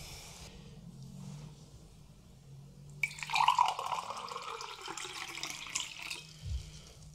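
Water trickles and splashes as it is poured into a glass in a quiet indoor massage setting, starting midway after near silence and running as a close, bright stream for a few seconds.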